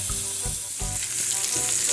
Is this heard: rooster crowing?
no